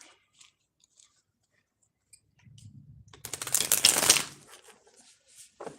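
A short riffle of tarot cards being shuffled by hand, a soft close flutter rising and fading over about two seconds after near silence and a few faint taps.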